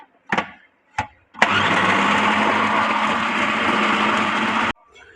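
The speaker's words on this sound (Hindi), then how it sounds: "तीनों रोटियों के टुकड़ों को ग्राइंडर में डाल के ग्राइंड कर लेना है" Two short taps and clicks come first, then a kitchen grinder starts up and whirs loudly and steadily for about three seconds as it grinds torn pieces of roti, before cutting off abruptly.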